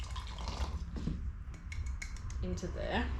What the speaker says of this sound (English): I'm just going to add my chickpeas with part of the water